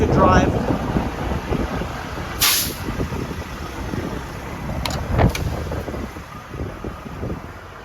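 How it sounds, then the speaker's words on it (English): Wind buffets a truck driving at night near Salina, Kansas, producing a steady broadband rumble and rush with microphone wind noise and a couple of brief higher hisses. "It's windy, so it's a little hard to drive."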